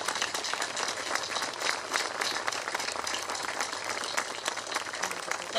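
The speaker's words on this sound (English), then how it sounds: "Let's give them the round of applause that's due to them." An audience at the Pearl Harbor memorial parade claps in a steady, dense round of applause, moderately loud and continuous with no voices over it.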